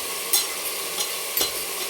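Mutton pieces sautéing in hot oil give a close, steady sizzle, with two brief scraping stir strokes rising above the hiss.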